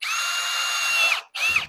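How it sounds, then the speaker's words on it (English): A power drill bores holes in a slot car closet, running steadily at high pitch for over a second, cutting out, then whining again in a short second burst, close and loud with no talk. "I'm going to go ahead and drill the holes over here"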